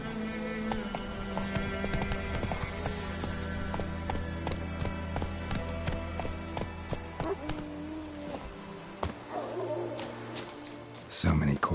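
Roach the horse galloping in The Witcher III: rapid, steady hoofbeats drum throughout over an ambient musical bed, with a louder burst near the end.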